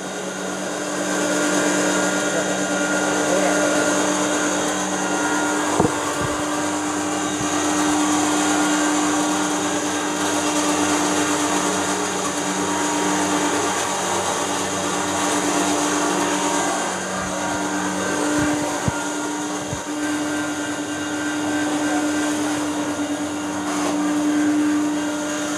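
Auto suction grinder milling maize, a loud, continuous motor whine with a steady hum that runs unbroken, with a few faint knocks.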